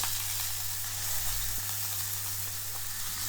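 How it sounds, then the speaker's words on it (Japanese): A tied lump of meat searing on its side in a hot pan gives a steady, close hiss of sizzling fat, even and unbroken for a few seconds with only a faint click, no voices. "最後の面の側面を焼いていきます。"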